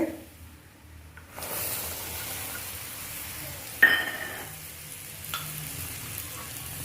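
Chili powder is stirred into hot oil for a mango pickle after the stove is switched off, starting quiet before a close sizzle breaks out and continues steadily with a sharp utensil clink.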